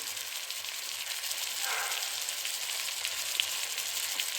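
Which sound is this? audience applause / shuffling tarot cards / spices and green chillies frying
spices and green chillies frying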